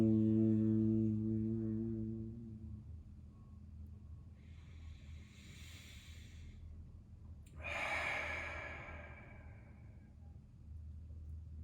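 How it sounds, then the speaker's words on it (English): Deep breathing during a yoga session: a long, loud inhale-like tone at first, then quieter airy breaths and a second rush of breath, close to the microphone. "Deep breath in."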